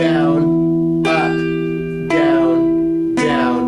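An electric guitar plays a song's riff as sustained strummed chords, changing roughly once a second with crisp attacks, close and clear.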